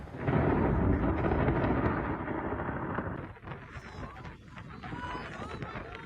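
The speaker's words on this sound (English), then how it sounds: "It's a volcano that's getting struck by lightning." Thunder from lightning striking an erupting volcano rumbles as one deep, continuous roar that is loud at first and then slowly fades and thins out.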